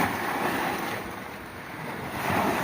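Ocean waves roll in close to shore at rising tide, a steady wash of surf mixed with gusty wind buffeting the microphone, surging louder toward the end.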